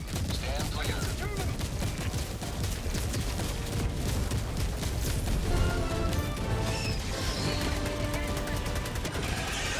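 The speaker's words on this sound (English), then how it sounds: "Orbital barrage incoming. Stand clear." An orbital barrage pounds the battlefield in the Helldivers 2 video game, with a loud continuous barrage of blasts, cracks and rapid gunfire layered under game voices and chatter, the impacts piling up densely throughout.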